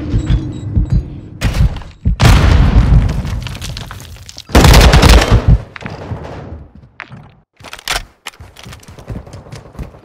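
Gunfire in Call of Duty Modern Warfare 2 during an online match: loud bursts of shots and heavy booms in several clusters, dense and close, with brief quieter gaps between volleys.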